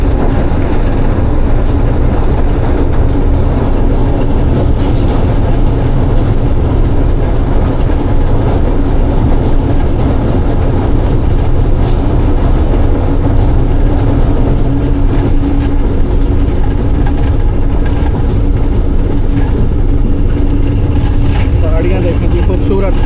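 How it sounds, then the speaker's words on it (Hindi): The Millat Express rolls across the Chenab river bridge with a loud, continuous rumble and rattle of wheels and carriages, heard close up from on board, with voices partly mixed into the din. "दरिया चनाब का और इसके ऊपर से गुजर रही है ट्रेन"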